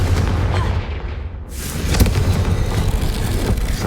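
Confringo blasting spell in the video game Hogwarts Legacy, a loud booming explosion that bursts out after a brief dip and leaves a dense rumbling tail.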